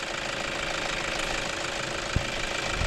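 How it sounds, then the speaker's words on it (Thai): A vehicle engine idling while being checked for leaking injector seals, giving a steady low rumble with a faint regular knock, heard close and alone apart from one brief thump near the end. "ฟังเสียงเครื่อง ว่าเสียงเครื่องยนต์เป็นยังไง"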